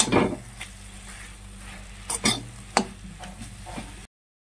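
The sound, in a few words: stirring garlic paste and turmeric into greens in a pan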